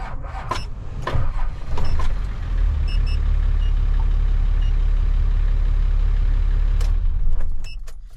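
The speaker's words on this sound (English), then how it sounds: "there's a noise, and what it is it's the starter motor" A car's faulty starter motor gives off a steady whirring, grinding drone that begins after a couple of brief clicks and knocks, then holds close and loud for several seconds before cutting off.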